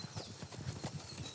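A horse gallops in a steady rhythmic clip-clop, hooves thudding at a moderate distance during a training session, fairly faint and without voices.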